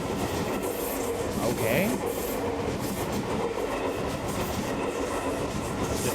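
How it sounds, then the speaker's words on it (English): A train in the video game Ghostpia slides into a station platform, a steady, loud rumble of rolling wheels with faint squeals and clatter throughout, and a brief spoken word partway in. "sound of the train sliding into the platforms grows nearer and nearer."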